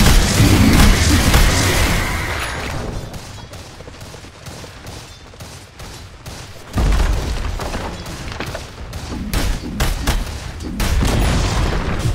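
Explosions and gunfire-like bursts from a Dota 2 battle as the Dire bottom tower comes under attack, loud and continuous with heavy booms at the start and again midway, over layered game effects.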